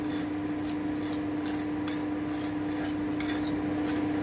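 Semolina dry-fries in a pan while a spoon scrapes and stirs it, a steady rasping shuffle with regular strokes over a constant electric hum.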